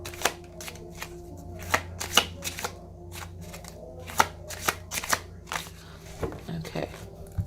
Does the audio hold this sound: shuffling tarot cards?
yes